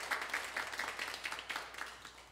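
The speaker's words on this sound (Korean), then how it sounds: "박수로 한번 격려하겠습니다" A church congregation applauds during a Sunday worship service: a faint, steady patter of many hands clapping, heard from a distance.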